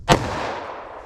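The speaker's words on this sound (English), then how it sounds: "now let's hit that with our 357 Magnum." One sharp .357 Magnum gunshot fired during a ballistic test, a single loud crack followed by a fading reverberant tail.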